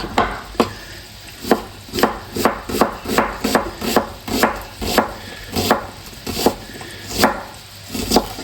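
A knife chops an onion on a cutting board in steady, evenly spaced sharp knocks, about two per second, close and loud with a faint hum behind and no talk.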